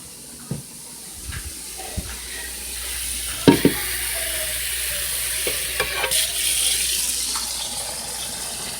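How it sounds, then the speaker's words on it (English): Hot water splashes into a simmering pot of collard greens and neck bones, with a soft sizzle and scattered clinks and stirring knocks over about nine seconds, close and without talk. "I'm going to add maybe a little more hot water"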